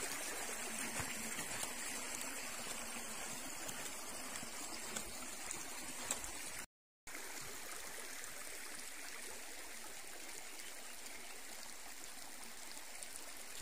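Boyong river water rushing over rocks, a steady close broadband gurgle and hiss that holds throughout with a brief cut in the middle.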